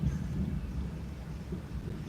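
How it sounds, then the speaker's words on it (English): Low, rumbling thunder from a storm rolls on continuously, with deep bass energy and steady background noise, no voices. "Let me know if y'all can hear the thunder"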